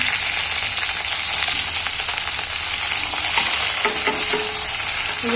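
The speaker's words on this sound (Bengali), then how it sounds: "আমি আজকে করবো হচ্ছে ভেন্ডি ডাল, তার জন্য ভেন্ডিটাকে ভালো করে একটু ভেজে নেবো।" Okra frying with mustard seeds and chili in a pan for bhindi dal, a loud dense sizzle with scattered crackles and a few spoon scrapes near the end, close and steady with no voices.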